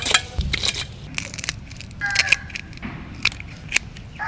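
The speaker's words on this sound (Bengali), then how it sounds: "এভাবে সবগুলো চিংড়ি মাছ কুটে নেব।" Large raw shrimp are cleaned and cut by hand, with close, scattered crunchy snips, crackles and wet clicks coming in irregular bursts.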